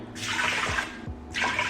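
Water pours into a pot of long grain white rice in a home kitchen, a close, rushing splash that pauses briefly and then resumes.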